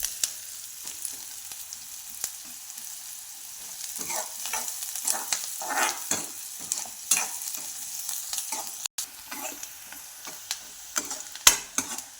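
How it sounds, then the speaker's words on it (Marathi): Chopped onions sautéing in a kadhai for a village-style wet matki curry, a steady soft sizzle broken by repeated scraping stirs of a spoon against the pan, close and alone with no talk. "कांदा छान असा परतून घ्यायचा"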